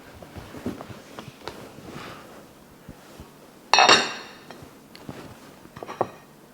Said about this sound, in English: Let me just stir these beans up.